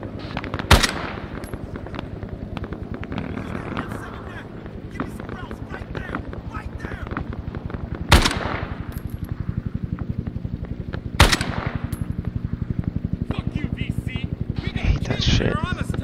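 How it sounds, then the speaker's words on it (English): Heavy video-game gunfire sweeps across a battlefront near Pakpong: sustained machine-gun bursts with a few sharp, loud cracks standing out, wind noise running throughout, and shouted voices mixed in. "Lay down fire across our front!"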